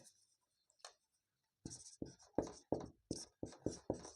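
Chalk or marker writing on a board during a maths lesson on coordinate geometry, a faint stroke early on, then a steady run of about eight distinct scratchy strokes, close and clear with no talk.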